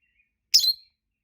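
Lovebird parrot gives a single short, bright chirp close to the microphone, alone in otherwise silent surroundings.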